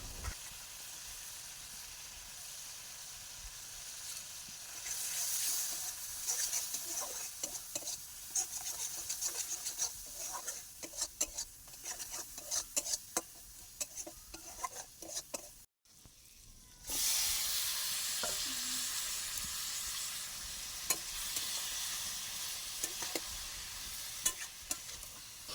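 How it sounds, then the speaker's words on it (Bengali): Bamboo shoots frying in a pan with turmeric, dry chilli powder and salt, stirred steadily: a continuous sizzle with scraping stir strokes, briefly cut off midway, then a louder hiss resumes. "এবারে দিয়ে দিয়েছি বাঁশকরুল। এবার সব কিছু মিক্সড করে নেব ভালোভাবে।"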